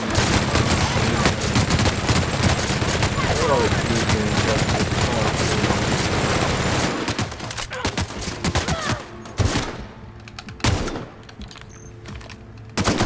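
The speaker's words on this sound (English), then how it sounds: "I got me a machine gun" Dense, rapid machine gun fire rattles continuously in The Outer Worlds, loud and close for several seconds before breaking into scattered bursts and quieter pauses.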